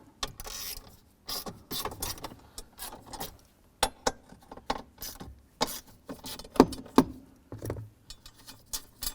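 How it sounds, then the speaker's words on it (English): A 10mm socket wrench takes two bolts out of a plastic knee trim panel on a 2007-17 Jeep Wrangler, in bursts of close ratcheting clicks with short pauses and metallic rattles between them. "Using 10mm socket, go ahead and remove these 2 bolts here."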